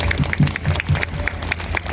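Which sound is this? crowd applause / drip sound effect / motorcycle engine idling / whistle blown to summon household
crowd applause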